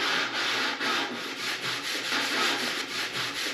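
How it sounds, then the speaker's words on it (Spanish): Steady rhythmic hand sanding of wooden drawers, repeated back-and-forth rasping strokes on wood, close and fairly loud with no talking. "ahora tocará lijar."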